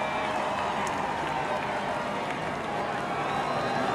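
A boisterous stock-car race crowd roars steadily at Jeff Gordon's final career win, a dense, continuous wash of cheering heard from within the stands, with no clear breaks.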